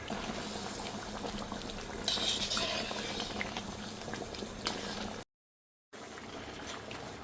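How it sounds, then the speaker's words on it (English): A pot of beef jalfrezi curry bubbles and simmers steadily at close range, a continuous soft gurgling broken by one brief moment of silence. "So that's been boiling for 4 hours."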